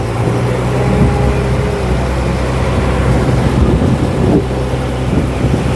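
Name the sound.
fishing boat engine running at sea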